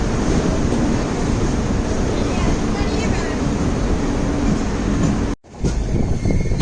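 Netravati Express pulling out on the Konkan line between Khed and Madgaon, a loud, continuous close-up rush of wheels and wind that drops out sharply near the end before resuming.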